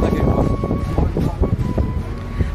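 Speed boat cruising on a lake in Kerala, with a steady rush of engine, wind and water that stays loud and continuous while people talk over it.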